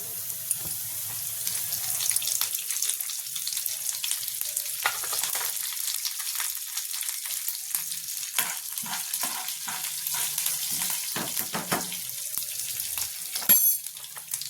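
Cumin, mustard seeds and curry leaves crackle and sizzle in a teaspoon of hot oil for a beetroot chutney, a steady close frying hiss with scattered sharp pops and spatters throughout, no voices.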